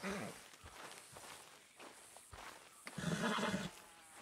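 A Kentucky Saddler horse in Red Dead Redemption 2 shuffles and stamps with scattered hoof clops, snorts and breathy whinnying, close and moderately quiet, with no talking.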